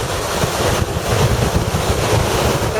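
Strong wind buffets the microphone while big Lake Superior waves crash on the beach at Park Point in Duluth, a loud, continuous, churning roar with no talk.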